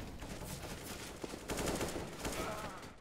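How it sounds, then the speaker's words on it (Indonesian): Gunfire in Counter-Strike: Global Offensive crackles in a rapid, dense exchange, fairly quiet and muffled, continuing without pause across the moment. "Oke, mereka tembak-tembakan"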